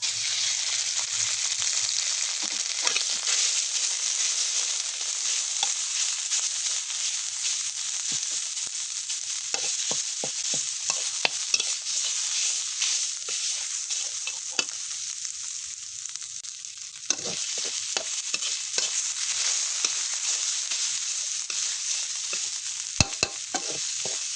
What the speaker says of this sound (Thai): ใส่น้ำมันเสร็จแล้วก็จะใส่พริกแกงลงไปผัดให้หอม